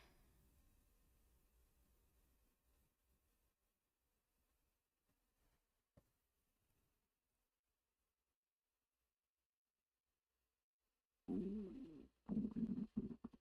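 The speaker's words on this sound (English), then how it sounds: "you guys can probably hear my stomach growling" A stomach growls loudly in two long gurgling bursts near the end, after a long stretch of near silence with faint low rumbles.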